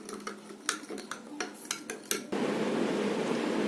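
A spoon clinks repeatedly against a glass while stirring water and sand, a quick run of sharp taps, followed by a steady wash of swirling, gritty liquid noise.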